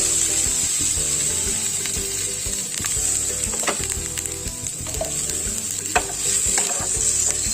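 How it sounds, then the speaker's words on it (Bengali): Cashews and raisins sizzle in hot oil in a pan with carrots and beans, a steady crackling fry broken by repeated scraping and stirring strokes of a spoon, close and continuous with no voices. "কাজু কিশমিশটা হালকা নেড়ে চেড়ে নিয়ে আমি দিয়ে দিচ্ছি তৈরি করে রাখা রাইস।"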